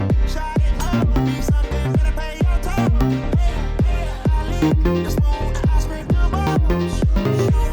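A synth bassline treated with bitcrusher, EQ, chorus and delay pumps in a steady, driving rhythm with punchy repeated notes, loud and full inside a remix beat, with no talk over it.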